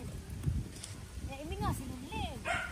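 Dogs whine and yip in brief, high, excited bursts at home as their owners return, close by but fairly faint under people talking.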